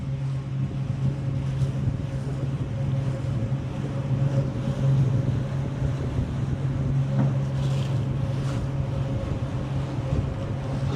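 A boat motor drones steadily on a fishing lake near Dallas–Fort Worth, a constant low hum mixed with heavy wind rush and water noise throughout.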